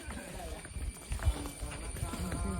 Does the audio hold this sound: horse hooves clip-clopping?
yes